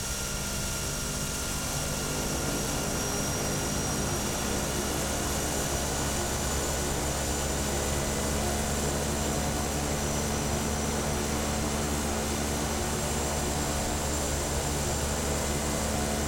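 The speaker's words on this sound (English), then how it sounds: "I'm going to see if we can't do it with a little bit of reverse thrust." Simulated airliner engines in reverse thrust in the FSX flight simulator give a steady, dense roar that builds after the first couple of seconds and holds constant, with a broad whooshing hiss and no voices.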